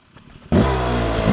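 An off-road motorcycle engine suddenly revs up after a quiet moment, loud and close, holding a steady high roar with no talking.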